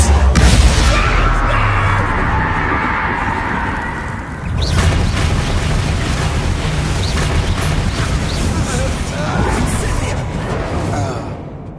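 A Bombarda spell goes off in Hogwarts Legacy, a loud booming blast with crashing debris at the start, then a sustained rumbling, cluttered battle din of further impacts and effects carrying on at high volume to the end.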